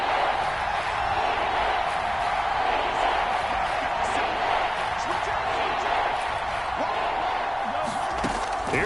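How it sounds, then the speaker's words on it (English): A roaring football stadium crowd at a Bears vs Browns game, a dense continuous wall of cheering and noise that stays loud throughout, with a commentator talking over it. "That just means this crowd's going to get even louder"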